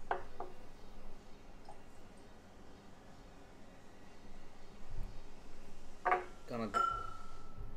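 Whiskies stirred together in a glass give a few close clinks and a rattle near the end, separated by quiet stretches with brief talk.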